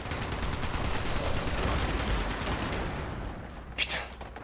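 Rapid gunfire from a Fallout 76 firefight rattles densely throughout, loud and continuous, with a sharper burst near the end; voices talk over the shooting.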